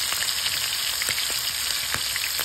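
Battered calamares frying in hot oil, a steady close crackle and hiss with scattered sharp pops, no voices.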